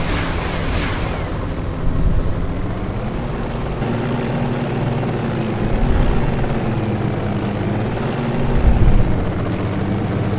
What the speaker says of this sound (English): we can hover around in the helicopter